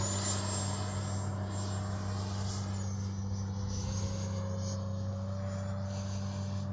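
A ducted-fan RC jet model of an A-6, an 80 mm fan unit with an updated motor, flies steadily with a continuous whining drone and a high tonal whine that shifts slightly in pitch, sustained and moderately loud throughout.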